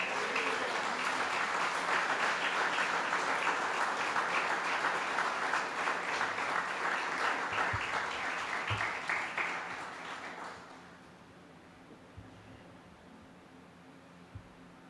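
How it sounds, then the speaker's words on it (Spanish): A church congregation claps in sustained applause for about ten seconds, dense and fairly close, then fades quickly into quiet room noise with a few scattered soft knocks. "Dale un aplauso, hermano."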